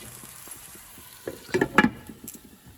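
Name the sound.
broccoli frying in a pan until golden brown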